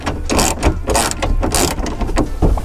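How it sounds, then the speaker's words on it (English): A hand ratchet tightens a 10 millimeter bolt on rear seat delete hardware in a Dodge Challenger, giving rapid, close clicking in quick back-and-forth strokes with no talking. "it's a 10 millimeter bolt"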